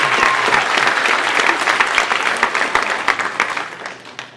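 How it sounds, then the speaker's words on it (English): An audience gives a hearty round of applause, loud and dense with some distinct nearby claps standing out, fading gradually near the end. "How about a big round of applause for Chris, my son"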